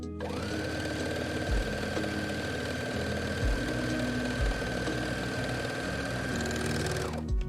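A sewing machine stitching large microfiber cleaning cloths, running in a long steady whirring run with a fast mechanical needle rhythm, close and fairly loud, starting and stopping at the ends with no talk.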